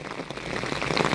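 Heavy rain pours down in a high-desert town, a dense, steady hiss of drops pattering on surfaces close by, filling the whole moment without any voices.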